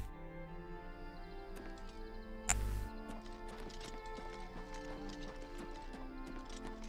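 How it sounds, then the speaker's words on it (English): Clip-clop of horse hooves in the video game Oblivion Revisited, a quiet steady trotting rhythm with one sharp louder thud partway through and faint game sounds underneath. "I will take the horse."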